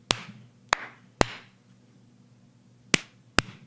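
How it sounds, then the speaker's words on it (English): Five sharp hand claps for audio sync ring out alone, spaced irregularly with a long pause before the last two, each a crisp snap with a short room echo. "I'm gonna clap."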